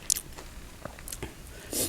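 Close-up chewing on a meal of bamboo shoot curry, grilled Mekong fish and bitter gourd, with soft, irregular bites, wet squishes and a few crunchy clicks that come and go near the mouth.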